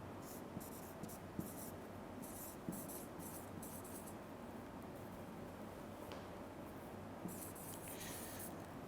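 Pen strokes on paper or a tablet during an online math lecture: soft, continuous scratchy writing in irregular bursts, close up and quiet, with no talking.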